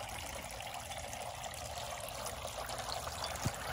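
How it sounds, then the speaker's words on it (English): A small garden water fountain trickles steadily outdoors, a faint continuous splashing and dribbling wash with no talking. "There's my water fountain."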